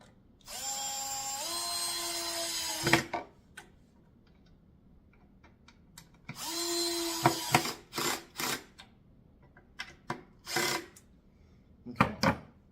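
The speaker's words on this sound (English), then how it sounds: "And again, just drill these down." Power drill driving long wood screws into the underside of a kids' natural wood chair, two whining bursts that rise in pitch as each screw seats, followed by scattered clicks and knocks of handling.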